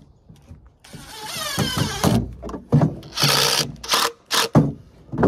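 Screws driven with a power driver to mount a surveillance camera on a homestead, heard as several short whirring bursts with ratcheting clicks, close and loud, separated by brief pauses.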